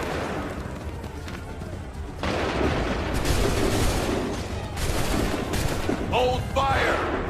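Musket volleys in the video game Assassin's Creed III, rolling bursts of gunfire crackling over continuous battle noise, with shouted voices mixed in.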